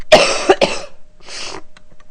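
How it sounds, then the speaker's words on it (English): Several harsh coughs in quick succession, close and loud, followed by a softer throaty cough after a short pause. "Sorry about the coughing."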